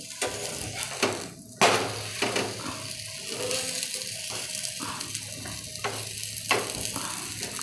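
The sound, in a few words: spicy veg toast bread frying on a pan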